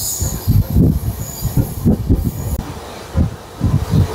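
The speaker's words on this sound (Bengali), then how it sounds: "এই দেখুন আমাদের ট্রেনটা ঘুরছে," The Shantiniketan Express from Howrah to Bolpur turns onto the main line, its wheels clattering over points and squealing on the curve in loud, close, rhythmic bursts, with no voices.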